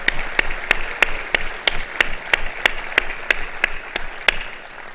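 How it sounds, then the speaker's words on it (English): Applause from a conference audience for the 2020 Hall of Fame inductees, a steady wash of clapping with distinct louder claps landing at a regular beat throughout. "So one final round of applause for our 2020 inductees to the Hall of Fame."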